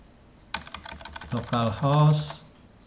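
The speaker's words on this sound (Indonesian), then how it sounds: "Kalian ketikkan localhost" Someone types a localhost address on a computer keyboard, rapid close key clicks heard while a person talks over them.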